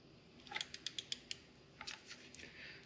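A ratchet-type torque wrench works on the spark plugs of a 3.6 Pentastar engine, giving a quick run of sharp, close ticks, a pause, then a few more clicks, all fairly quiet with no talk.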